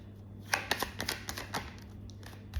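Tarot cards shuffled and drawn during a reading give a few soft, close riffles and card snaps in a short cluster, fading to quiet handling over a low background hum, with no speech.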